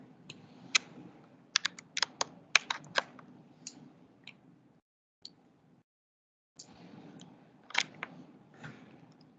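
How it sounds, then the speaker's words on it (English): Calculator buttons tapped in quick clusters of sharp, close clicks, a pause in the middle, then another short burst of presses. "I'll type that in my calculator"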